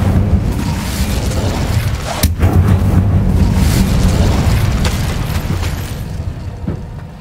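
Incendio fire spell cast in Hogwarts Legacy, a loud rumbling burst with a sharp crack near the two-second mark, then a sustained roaring boom that slowly fades.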